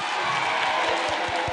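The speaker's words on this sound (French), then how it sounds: "Applaudissez pour vous-même." Crowd at a presidential campaign rally in Guinea applauding, a dense continuous wash of clapping with some rhythmic claps, loud and close, no talk on top.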